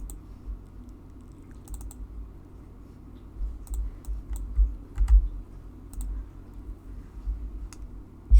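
Soft computer keyboard clicks, a few scattered taps and a small cluster of keystrokes over a low background hum, fairly faint and close.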